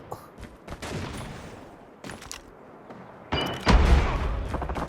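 Scattered bursts of explosive gunfire and heavy booming blasts in Call of Duty Mobile, growing louder and denser toward the end.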